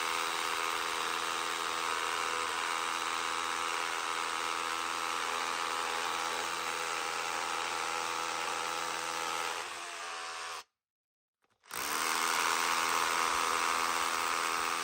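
Drill with a tungsten-tipped bit bores into very hard concrete as a steady, loud buzzing grind. The pitch shifts near the end, the sound stops for about a second, then resumes.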